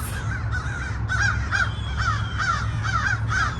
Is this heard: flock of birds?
yes